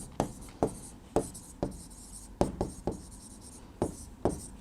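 Pen strokes on paper during a biology lesson, about ten short scratchy taps and scribbles in an irregular rhythm, close and fairly quiet with no talking.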